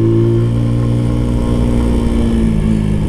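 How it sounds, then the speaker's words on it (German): Exhaust of a Brixton Cromwell motorcycle burbling loudly and steadily while riding through a village, a close, low engine drone that shifts pitch slightly as the throttle changes, with no talk. "Und der Auspuff blubbert so ein bisschen."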